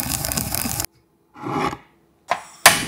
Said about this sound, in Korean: 부족한 풍미를 채워줄 통깨 한 스푼은 절구의 반 정도 갈아서